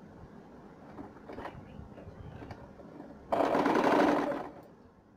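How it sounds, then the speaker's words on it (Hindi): A sewing machine stitches a satin-ribbon-trimmed cap for a child's bathrobe in a single close burst of about a second and a half, after some quiet handling sounds. "ये देखिए, ये मैंने कैप की स्टिचिंग कर दी है यहाँ से पूरी"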